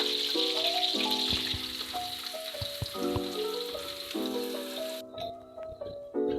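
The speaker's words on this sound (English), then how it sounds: "now we're gonna fry our garlic" Two cloves of garlic sizzle in a pan for Penang-style fried kuey teow, a steady close hiss of frying that runs throughout beneath a louder melodic music track.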